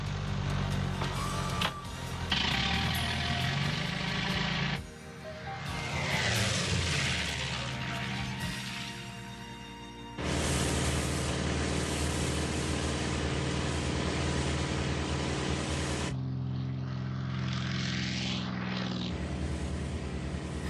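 Jet aircraft from the anime series The Super Dimension Fortress Macross, its engines roaring loudly throughout as it takes off, the din dipping briefly and surging again, mixed with music.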